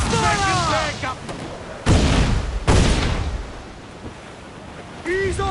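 Ship cannons in Assassin's Creed Black Flag boom in two heavy blasts amid roaring wind and crashing waves at sea, with shouted voices of a crew heard before and after.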